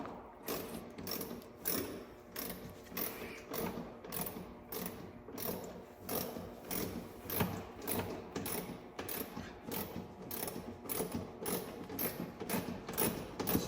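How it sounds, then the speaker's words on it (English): Rapid ratchet clicks tighten a 7mm bolt underneath a C8 Corvette while installing an ACS rock guard, coming in steady short bursts of ratcheting strokes, close and alone without talk. "Just gonna install this final bolt underneath"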